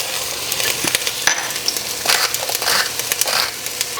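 Onions fry in a soup pot for chicken noodle soup, giving a steady loud sizzle close by while a spoon scrapes and stirs through them in uneven strokes.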